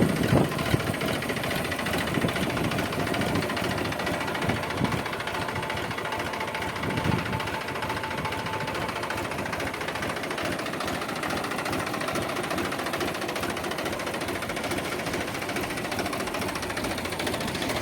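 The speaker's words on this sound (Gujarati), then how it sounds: "મોડલ બે હજાર પાંચ મહિન્દ્રા બસો પંચોતેર ડીઆઈ ટ્રેક્ટર છે" A 2005 Mahindra 275 DI tractor engine idles steadily with a low, even diesel chug and rattle, close and continuous throughout with no voices.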